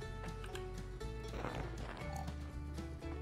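Horse in the video game Survivalcraft 2, with steady rapid clip-clop hoofbeats over a continuous game music bed, the steps running close and loud throughout.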